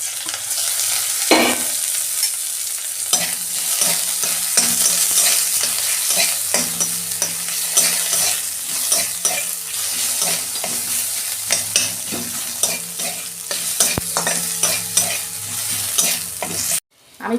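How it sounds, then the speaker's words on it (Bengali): Dried chilli, onion and crushed garlic hit hot oil in a kadai, crackling and sizzling close up, with frequent scraping stirs and clinks of a spatula throughout and a sharp knock near the end. "এই যে একটা শুকনো লঙ্কা দিচ্ছি, পেঁয়াজ দিচ্ছি, আর রসুন থেতো করে রেখেছিলাম দিয়ে দিচ্ছি।"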